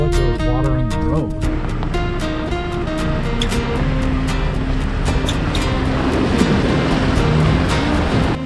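A Toyota Tacoma truck's engine rumbles as its tires churn and splash through water on the road, a continuous wash of spray under background music and a brief voice.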